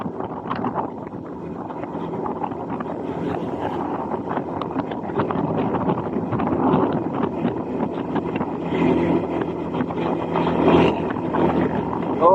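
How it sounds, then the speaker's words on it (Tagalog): Steady rushing wind buffeting the microphone during a ride, with a low engine-like rumble underneath, loud and continuous, swelling in the second half. "Medyo mahangin talaga ngayon."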